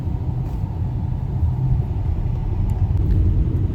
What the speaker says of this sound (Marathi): सो आता आम्ही निघलो आहे ट्रॅफिकमधून आणि आता आम्ही पुढे जातो